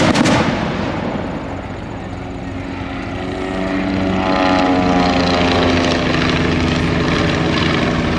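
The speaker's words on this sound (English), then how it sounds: "And aircraft going up. Here comes the SPAD. Here comes the triplane." WWI SPAD VII and Fokker Dr. I triplane flying at an airshow aerodrome, loud droning piston-engine roar that swells as the planes climb and pass, sustained and close throughout.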